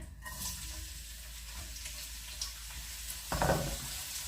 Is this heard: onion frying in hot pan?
yes